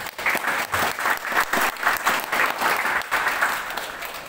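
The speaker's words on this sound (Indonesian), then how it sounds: "Berikan tepuk tangan kepada Tuhan." A church congregation at a Baptist Christmas celebration applauding together, sustained moderately distant clapping from many hands with a slightly uneven rhythm, no speech over it.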